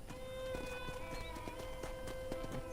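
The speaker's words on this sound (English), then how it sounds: "let's see if you can still ride a horse" Horse hooves clip-clopping at a steady walking rhythm in the Red Dead Redemption video game, with a soft continuous game ambience beneath and faint talk in the background.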